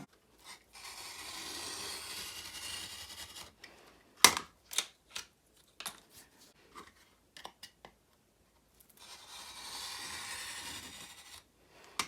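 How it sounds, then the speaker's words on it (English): A box cutter blade slices through a paper journal cover in long, steady scraping strokes, broken by a cluster of sharp clicks and taps as the blade and paper are handled, close and fairly quiet with no talking. "I'm just going to use this box cutter."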